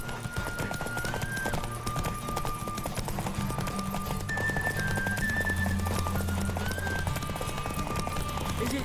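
Horse hooves gallop in The Witcher 3 in a dense, fast drumming that carries steadily under a sustained musical drone and tones.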